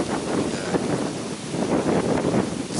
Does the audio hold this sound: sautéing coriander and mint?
no